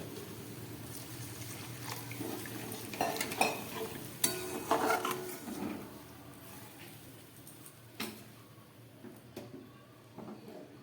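Chilli paneer sauce cooking in a pan, a soft bubbling simmer with gentle sizzling, occasional stirring and scraping, and a few light clinks of utensils against the pan.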